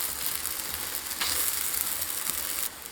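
A scallion oil coiled pancake fries in an oiled pan, giving a steady, close sizzle and crackle throughout with no voices, the hiss briefly lifting near the middle and dropping off sharply at the very end.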